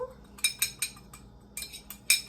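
Chicken seasoning being mixed by hand with makeshift utensils, giving a handful of scattered, light clinks and taps in quick bursts, fairly close and clear, with no one talking.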